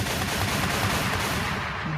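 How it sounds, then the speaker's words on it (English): Gunshot sound effects are played on a podcast: a dense, continuous burst of rapid gunfire fills the whole moment at steady loudness with no gaps, sounding like sustained automatic fire rather than single shots. "Hold on, let me get my gunshots for this nigga Shawny real quick"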